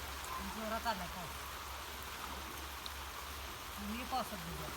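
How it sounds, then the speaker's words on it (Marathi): Heavy rain falls steadily as a soft, constant hiss in the background, an umbrella overhead, while a few faint voices speak briefly over it. "पाऊस येते जोरात"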